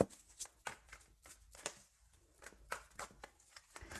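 Tarot cards being shuffled by hand before a draw, a quiet run of brisk riffling bursts and soft slaps at close range, no voices.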